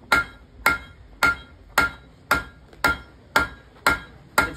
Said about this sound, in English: All with the hammer on the anvil here like this